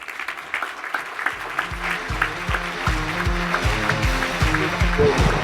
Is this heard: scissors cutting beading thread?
no